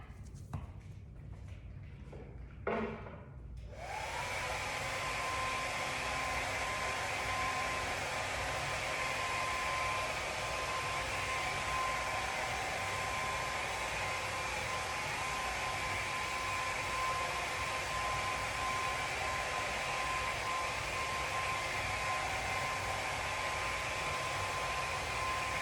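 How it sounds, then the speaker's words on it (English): A blow dryer switches on after a few seconds of quiet shuffling, then runs as a loud, steady whooshing roar with a faint whine until the end, drying paint. "I'm gonna go ahead and hit it up with a blow dryer to just zap all the moisture out of it"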